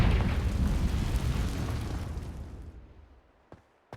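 A Confringo blasting spell explodes in Hogwarts Legacy, starting as a loud, broad roar that slowly fades over about three seconds into near silence, followed by two small faint pops.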